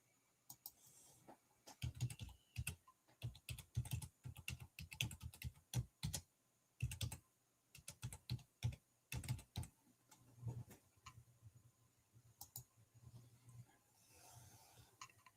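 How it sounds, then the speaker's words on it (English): Computer keyboard typing of an email address in bursts of quick, fairly quiet key clicks with short pauses between runs, no talking over it. "Let me type it in."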